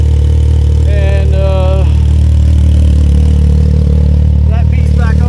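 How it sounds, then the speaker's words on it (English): A motorcycle fitted with a JSTAR exhaust idles loud and close, a steady low rumble throughout while a voice briefly speaks over it. "The old JSTAR exhaust. Sounds good."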